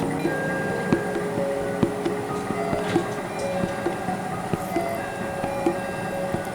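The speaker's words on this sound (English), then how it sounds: "the train door closed and the train is now heading north" A Watarase Keikoku Tetsudou line train pulls away, a steady low rumble of motor and wheels with faint rhythmic clicks and rattles running evenly throughout.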